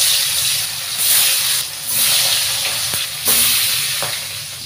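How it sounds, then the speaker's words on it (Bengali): Fish frying in hot oil in a pan, a loud, close, crackling sizzle that swells and fades in waves as the pieces are moved, with no voices over it. "এখন মাছ ভাজিটা হচ্ছে।"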